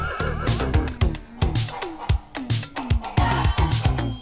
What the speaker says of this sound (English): When a horse like this stands its ground,